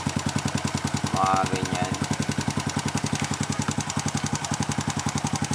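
A Honda XRM125 motorcycle engine running steadily during carburetor tuning, a close, rapid, even putter with someone speaking briefly over it.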